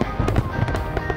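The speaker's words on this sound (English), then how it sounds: "firework displays every night of the year" Fireworks burst over an island resort at night, with a rapid cluster of crackling pops and thuds at close, steady loudness.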